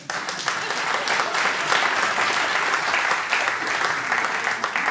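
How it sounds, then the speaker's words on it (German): Steady, dense audience applause filling a comedy festival hall, loud and continuous for several seconds with no one speaking over it. "Mal kurz per Applaus."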